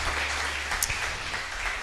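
A church congregation clapping together in welcome, a dense continuous patter of many hands at moderate distance that keeps going throughout.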